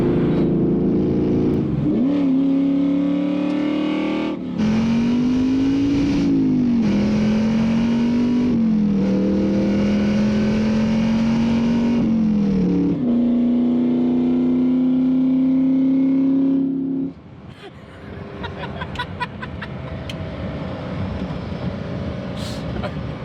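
A Ford Mustang revving hard and driving up and down James Road, its engine note rising and falling across repeated gear pulls, loud and close before dropping to a quieter idle-like rumble near the end.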